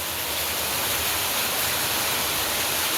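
Heavy rainwater rushes continuously after a torrential downpour, a loud, steady roar of flowing water close by with no pauses.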